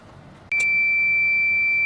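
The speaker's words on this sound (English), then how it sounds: "Once that timer goes off, I'm going to open it up." A heat press timer used for pressing a cup sounds a single sustained electronic beep, loud and steady, beginning with a short click and holding unbroken over faint room noise.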